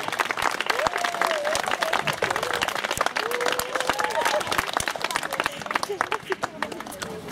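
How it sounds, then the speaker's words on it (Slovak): A crowd at the opening of a barrier-free children's playground gives sustained, dense applause with many sharp individual claps, voices audible beneath it. "Poprosím veľký potlesk ešte raz."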